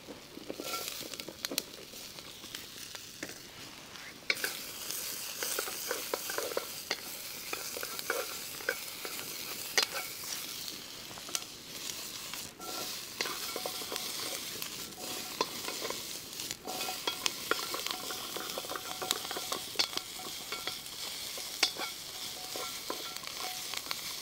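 Peppers frying and being stirred in a wok over an open campfire outdoors, a steady close sizzle with scraping stir strokes throughout and no talking.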